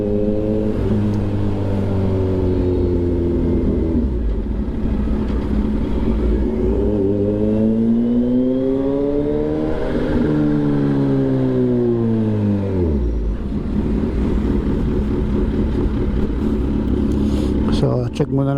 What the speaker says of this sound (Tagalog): Napapabakbak ako kasi baka mabilis magmotor tong si Eugene eh